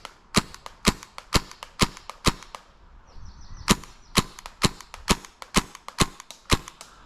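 An airsoft submachine gun fires on semi-automatic: about a dozen sharp, snappy shots in an even rhythm roughly twice a second, with one brief pause partway through. The shots are close and loud against a quiet outdoor background.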